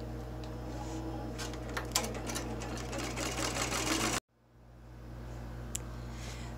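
An embroidery machine stitches a mini bus zipper bag in the hoop, with a steady close mechanical hum and rapid needle clatter that cut off abruptly, leaving a quiet room.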